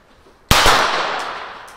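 A pyrotechnic cartridge fired from a blank pistol gives a single sharp bang with a quick second crack, followed by a long hissing, crackling decay that fades slowly.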